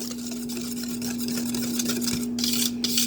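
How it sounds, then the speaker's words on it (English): A steady scraping, stirring rasp of a whisk working milk and water in a bowl, continuous and close, with a constant low hum underneath and no talking. "we're going to give this a good whisk"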